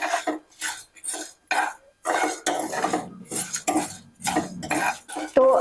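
Spices, dal and peanuts roast in a pan, stirred with a metal spoon in quick repeated bursts of scraping and clinking, close and fairly loud, separated by short pauses.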